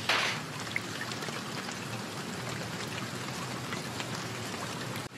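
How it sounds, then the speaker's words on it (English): Steady rain falls in Manchester, a constant close hiss of drops without a break and with no voices. "It's raining in Manchester"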